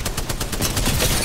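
Rapid gunfire in Apex Legends crackles in a fast, steady burst of evenly spaced shots, close and loud, with no voices over it.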